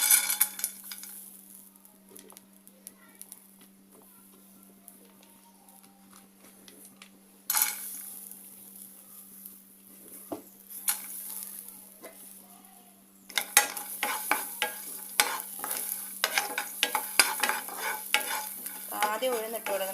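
Urad dal roasting in a hot pan while being stirred: quiet scraping and rattling with a soft sizzle, growing busier and louder in bursts toward the end, with no talking.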